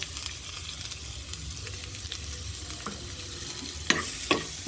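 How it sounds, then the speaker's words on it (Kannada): Onions with green chillies fry in hot oil in a pan for masala dosa potato filling, a steady close sizzle with scraping stirs and a couple of sharp spoon knocks near the end. "ಈರುಳ್ಳಿ ಹಾಕಿ ಚೆನ್ನಾಗಿ ಕೆಂಪಾಗಿ ಫ್ರೈ ಮಾಡ್ಕೋಬೇಕು."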